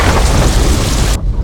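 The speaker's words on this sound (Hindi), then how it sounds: "बारिश जोरों से हो रही है" Heavy rain pours down steadily in a dense, loud roar, with deep rumbling like thunder running underneath throughout.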